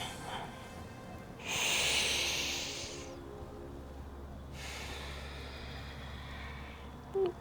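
Deep breathing during cat-cow yoga poses: a long, audible inhale swells, then a softer, slower exhale follows, close and alone over a quiet background.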